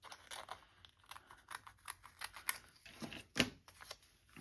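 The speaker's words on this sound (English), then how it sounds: "I'm going to take my scissors and go through, and I should be able to lift the vellum up just ever so slightly to be able to cut the excess off from here." Scissors snipping away excess vellum in a papercraft frame, a series of quiet close cuts and paper rustles with one sharper snip near the end.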